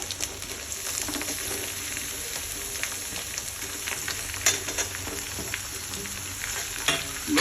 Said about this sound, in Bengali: আদা বাটা দেওয়ার সাথে সাথেই এখানে আমি সবজিগুলো দিয়ে দেবো।